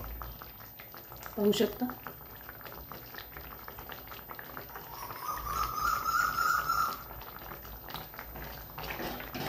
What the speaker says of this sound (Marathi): खूप छान आपले असे फळ शिजलेले आहेत